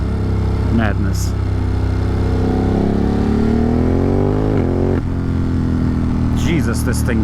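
A motorcycle engine roars while it is ridden on twisty roads in hot weather, a loud continuous drone that rises and falls in pitch with throttle changes and gear shifts, with wind noise and brief voice sounds over it.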